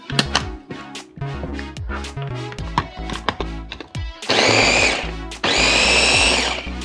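A blender grinds tomatillos, serrano chiles, garlic, salt and water for salsa verde, starting with short rhythmic pulses and then running in two loud, continuous bursts.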